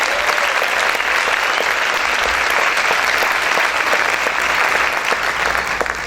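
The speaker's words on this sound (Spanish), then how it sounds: "Ese aplauso es para el Señor, dásele fuerte." A congregation in a church claps loudly and continuously throughout, a dense, sustained wash of applause with no break.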